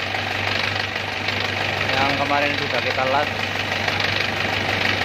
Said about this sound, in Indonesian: Ini mesin udah hidup